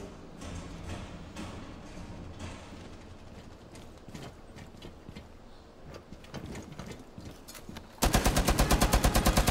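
Heavy machine gun fire in Rainbow Six Siege, scattered shots through a noisy firefight that ends in a loud, very rapid sustained burst.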